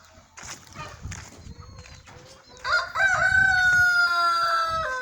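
A local cockerel on a farm crows loudly and close by, one long drawn-out cock-a-doodle-doo following some quieter clucking and rustling at the start.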